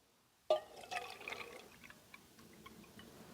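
Water is poured into the font of a Justrite carbide lantern, starting with a sudden close splash, then settling into trickling drips and small taps that fade away.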